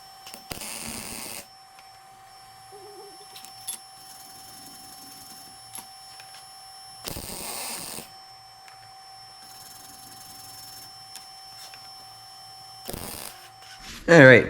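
Short bursts of welding on aluminum shifter splines from a Yamaha 1700 motorcycle, three distinct hissing crackles of about a second each, separated by quiet pauses, with a steady electrical whine underneath.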